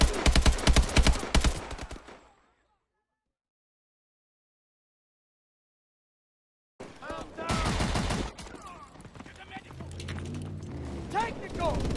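Rapid automatic gunfire in the Call of Duty: Advanced Warfare campaign, loud clattering bursts that cut to silence and then return amid shouted voices and battle noise.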